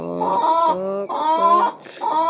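Chickens in the video game Minecraft cluck in short repeated bursts, three clear, loud, rhythmic runs of nasal calls close by with brief gaps and no talk.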